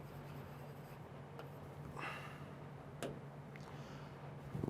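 Marker or chalk scratching on a board during a chemistry lesson: short, soft strokes of writing in separate bursts over a steady low background hum.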